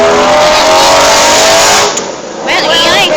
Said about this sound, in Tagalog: Well, ingay. Parang jeep naman yun.